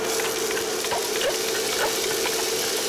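Minced onion from two small onions hitting a pan of olive oil and browned garlic, giving a steady close broadband sizzle that holds evenly for the whole stretch.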